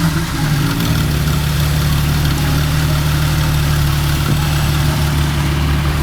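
A Porsche engine idles steadily right after startup through a newly installed aftermarket exhaust, a loud, close, continuous low rumble holding even for several seconds with no talk.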